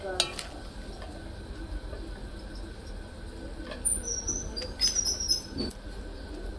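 A spatula scrapes and turns sweet-shop-style vegetable bhaji in a pan with faint, uneven clinks and shuffles, while light bird chirps sound in the background.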